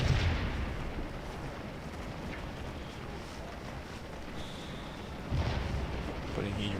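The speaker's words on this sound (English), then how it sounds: "Putting huge amounts of cannon fire into them." Cannon fire in the Civil War battle game Scourge of War at Gettysburg: distant booming artillery reports and rumbling under a continuous battlefield wash, with a heavier thump late on.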